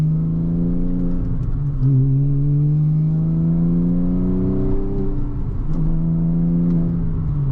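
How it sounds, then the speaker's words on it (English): A 2007 Porsche Cayman S exhaust revs up and down in rising and falling sweeps, loud and close, with a deep throaty drone and no talking. "That exotic sound from the exhaust,"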